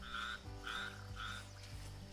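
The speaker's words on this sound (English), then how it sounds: "The like ambient frog noise, I wish that I could turn it down." Ambient frogs croak outdoors in a steady rhythm of about four evenly spaced, moderately faint croaks over a low background hum.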